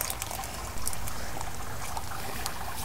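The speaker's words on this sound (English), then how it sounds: "We have water flow." Water starts flowing through drip irrigation emitters, a soft trickling and hissing flow that steps up in level after a brief moment and then runs on evenly, close by, with no talk.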